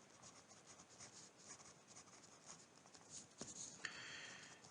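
Lecturer writing on the board in a chemistry lecture, with quiet, faint scratching and rubbing strokes in short bursts and a slightly louder rub toward the end, without talk.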